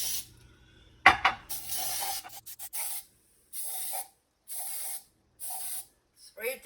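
Cooking spray hisses in short bursts onto a cake pan, several separate sprays with pauses between them, close and clear, following a brief rustle at the start.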